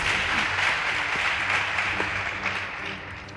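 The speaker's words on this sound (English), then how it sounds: "Please give them a round of applause." Applause from an audience at a school debate competition, a steady dense wash of clapping lasting a few seconds with no pauses, loud and close, fading slightly at the end.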